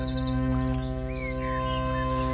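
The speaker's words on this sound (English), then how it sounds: "You might even hear birds singing." Birds chirping in quick repeated tweets and a few whistled calls, layered over a loud steady harmonic drone that dominates the background.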